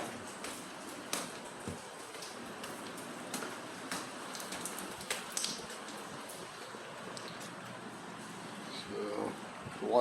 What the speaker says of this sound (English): it's only rained a little bit so far and the parking lot's already flooded